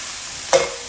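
Ginger tossed into fish stir-frying with black bean sauce: a brief close sizzle and scrape flares up once over a faint steady hiss, then quickly fades.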